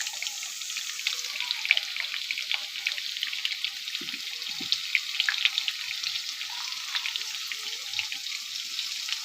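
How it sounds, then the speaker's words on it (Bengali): Potatoes fry in a pan with a steady, crackling sizzle and occasional soft pops, close by and alone with no talking. "এখন আমি আলুটা ভেজে নেব।"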